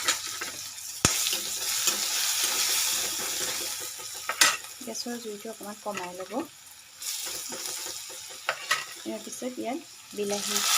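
Oil sizzles steadily in a pan with chopped tomatoes, dried fish and dried chillies, with occasional stirring scrapes, while a person talks over the cooking.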